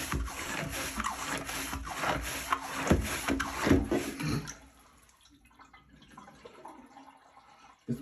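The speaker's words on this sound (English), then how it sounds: "we got the clog boss and we got a toilet here that's clogged up" A Clog Boss plunger works a clogged toilet with rhythmic wet squelching and rubbing strokes for several seconds, close and fairly loud, then it goes quiet apart from a faint drip.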